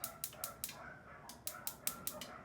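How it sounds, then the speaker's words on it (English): A dog barks outdoors next door in a short burst of sharp, faint, distant yips, then a pause and another rapid burst, under a quiet background. "There's a dog outside next door who's barking"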